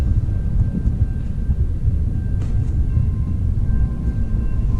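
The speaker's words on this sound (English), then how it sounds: "here is the first section of the auto train" The Amtrak-style auto train's car-carrier section sits on the rails. It gives off a continuous deep, rumbling drone, with a faint steady whine and a few light metallic clinks, and no voices.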